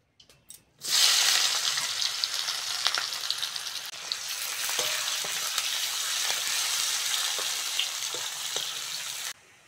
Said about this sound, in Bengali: ওই তেলের মধ্যে কুচনো পেঁয়াজ দিয়ে দেবো